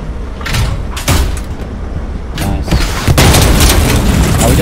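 A shot fired at a building in the war game Hell Let Loose, with several loud booming impacts and blasts coming in bursts against steady battlefield rumble.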